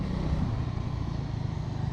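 Bajaj Dominar 350 motorcycle riding through traffic, a steady low engine rumble throughout with a constant exhaust drone and no talk.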